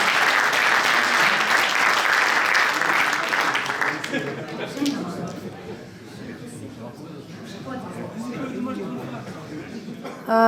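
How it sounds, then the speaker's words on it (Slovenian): At an asphalt and bitumen colloquium award ceremony, the audience breaks into full applause that fades after a few seconds into scattered claps, murmurs and a voice talking. "In še en aplavz za nasmešek"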